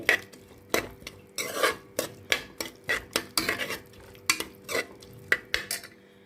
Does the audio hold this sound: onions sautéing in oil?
yes